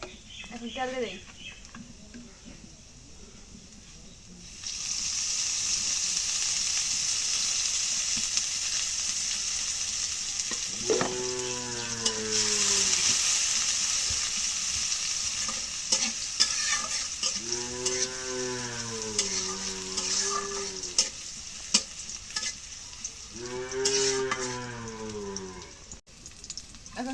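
Chopped onion hits hot oil in a kadai and sizzles loudly and continuously after a quiet start, while a cow moos three times nearby and a voice talks briefly.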